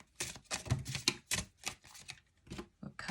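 Tarot cards being shuffled with a run of quick, crisp flicking and slapping bursts, a few cards snapping out of the deck, close and clear with no talking.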